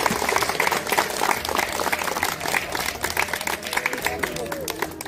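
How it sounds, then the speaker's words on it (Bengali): A group claps loudly and steadily for a friend during a casual winter gift-exchange chat; the dense, continuous clapping lasts throughout and mixes with voices. "তাদের সকলের জন্য একটা জোরে হাততালি"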